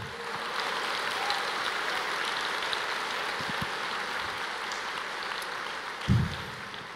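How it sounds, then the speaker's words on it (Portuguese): A church congregation applauds during a sermon, a dense, even wash of clapping heard from across the room, steady throughout with a brief louder knock near the end. "Você não pode aplaudir o Senhor?"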